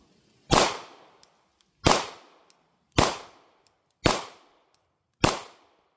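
Five sharp rifle shots fired at an even pace roughly a second apart, each loud and close with a ringing decay, after a 6-foot drop test of a Gideon Optics ROCK sight during field testing, with no talking.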